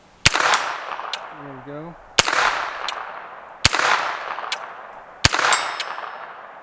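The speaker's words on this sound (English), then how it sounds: "first we're going to shoot at our 260 yard targets. See if we can hit our green silhouette there" A Han Solo blaster replica fires four sharp, loud shots at steel targets about 260 yards away, each crack followed by a long ringing decay, with a short spoken phrase between shots.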